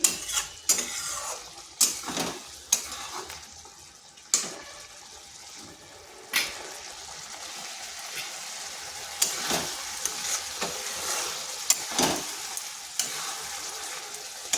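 Ridge gourd curry with lentil dumplings bubbles in a pot under a low simmering hiss, broken by repeated clinks and scrapes of a spoon stirring against the pan.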